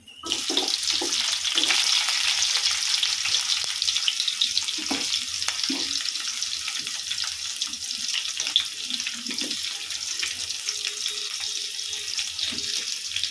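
Chopped onion sautés in a pan for a Tamil-style potato fry, giving a steady, close sizzle with occasional stirring scrapes and no talk.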